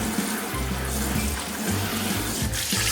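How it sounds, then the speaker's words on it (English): Tap water runs steadily into a sink as small Lionel train layout structure parts are rinsed clean of soap, a continuous close splashing flow with slight shifts as the pieces move under the stream. "all I'm doing now is rinsing these off."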